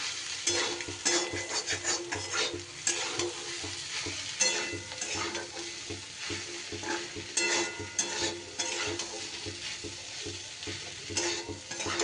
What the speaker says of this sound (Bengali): আমি ভেজে রাখা আলু আর ঢেঁড়সটা এর মধ্যে দিয়ে দিলাম। সব কিছু এবার খুব সুন্দরভাবে মিশিয়ে নিতে হবে।